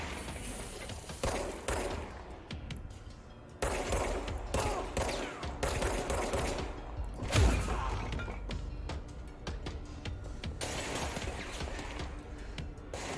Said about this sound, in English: Is there more shooting at us? There is.